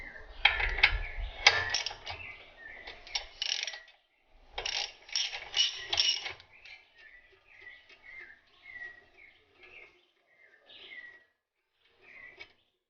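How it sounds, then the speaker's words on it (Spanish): A ratchet loosening the bracket holding a car's brake line during a brake pad change: bursts of rapid clicking, loud at first, then thinning into sparse, fainter clicks, no talking. "soltamos el bracket que sostiene nuestra línea de frenos"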